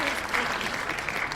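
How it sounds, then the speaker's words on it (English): A podcast studio crowd gives a brief round of applause after a joke, a short burst of mixed clapping with voices talking over it. "Round of applause for that joke"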